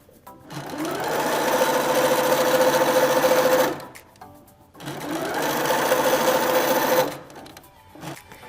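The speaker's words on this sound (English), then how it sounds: "we're just gonna stick the side of our jeans into our machine and sew a straight line using a 1/4 inch seam" A sewing machine stitches a straight quarter-inch seam along the side of a pair of jeans, running in two steady, even bursts of several seconds each with a short pause between, close and alone.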